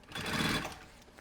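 A sewing machine stitches a puffer backpack with foam-like fiber padding, a brief close burst of motor whir lasting under a second.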